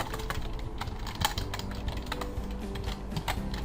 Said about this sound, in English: I'm going to copy this and I'm going to type here